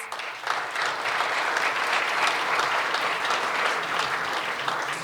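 A filling concert hall audience at an Indian Independence Day sitar concert breaks into steady, full applause, a dense even roar of many hands lasting several seconds.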